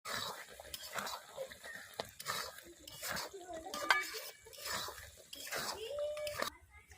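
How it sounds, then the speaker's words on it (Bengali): Jujube (boroi) pickle with fried spices is stirred in a pan, giving faint, repeated scraping and clinking of a utensil against metal under quiet talk. "মশলা দিয়ে আরও 5 মিনিট নেড়ে নিয়েছি"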